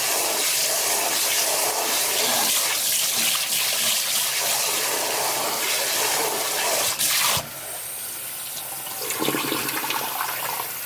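Running water pours steadily as rice is rinsed and drained in a kitchen, a loud rushing flow that cuts off abruptly near the end, leaving a softer trickle and drain gurgle.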